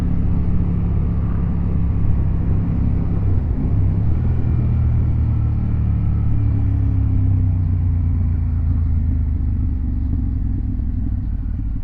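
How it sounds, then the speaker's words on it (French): KTM 890 Duke with a Tech 3 exhaust being ridden, a loud, steady engine drone with road rumble and wind throughout, close up, without clear separate pops standing out. "Je sais pas si vous entendez, mais les retours qu'elle fait, c'est impressionnant."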